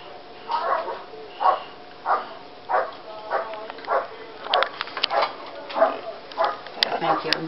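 A police dog barks repeatedly in a steady rhythm of sharp, evenly spaced barks at moderate distance outdoors in a residential backyard during an arrest.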